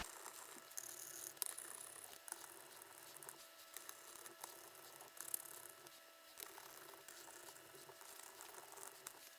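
Faint, steady mechanical clicking and ratcheting as bolts are snugged down into the engine cases of a Yamaha YZ125 motorcycle, with a soft continuous mechanical rattle underneath.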